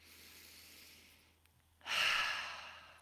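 A slow, deep breath during an emotional tapping exercise: a soft drawn-in inhale, a short pause, then a louder, airy exhale like a sigh, close and alone.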